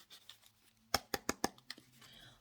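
Tarot cards being shuffled, a quick run of four crisp riffling slaps close by in a quiet room, followed by softer papery flicks.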